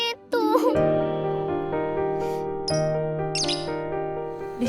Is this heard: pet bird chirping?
yes